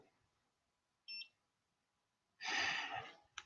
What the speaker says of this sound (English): there is a short beep from this device